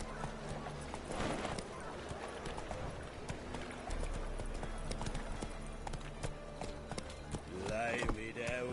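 Rhythmic hoofbeats of the horse Roach galloping in a video game, steady clip-clop throughout with music and game sounds underneath and a voice speaking over it.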